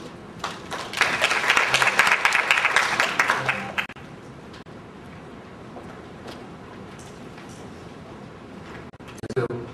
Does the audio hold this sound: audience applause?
yes